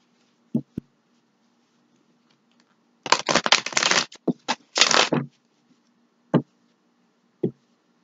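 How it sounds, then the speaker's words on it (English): A deck of tarot cards is shuffled in a quiet room: a few isolated taps, then two dense bursts of close, crisp riffling, followed by single soft card taps. "Let's give it one more shuffle."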